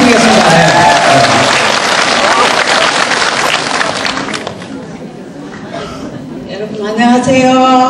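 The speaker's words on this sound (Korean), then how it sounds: "큰 격려의 박수 다시 한번 부탁드리겠습니다" Audience applause at a gathering, loud dense clapping with crowd chatter and laughter that fades partway, then an amplified voice speaks at the end.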